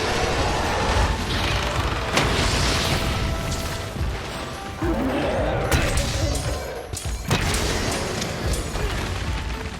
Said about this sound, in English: Those familiar dopamine hits of an Impact Crater are made even sweeter by a final explosion right on the monster's face